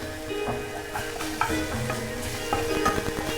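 Garlic fries in ghee in a pan for Egyptian fatta, giving a steady close sizzle broken by frequent scraping stirs, with no talk.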